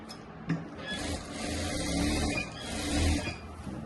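A sewing machine stitches a Rajputi kurti with a close, rattling mechanical run. Faint clicks and thumps rise and fall over a few seconds, and no one speaks.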